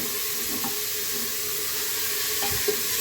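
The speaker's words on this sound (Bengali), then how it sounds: "মাংসটা প্রথমে একটু হালকা করে ভেজে নেব তেলে।" Beef sizzles steadily in hot oil with whole spices in a pan, a soft continuous crackle with a few clinks of stirring, no voices.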